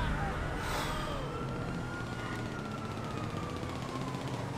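A police siren wails in Grand Theft Auto V during a chase, its rising and falling tone sweeping steadily over a dense background of traffic and engine noise.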